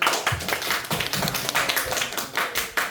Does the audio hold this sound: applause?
yes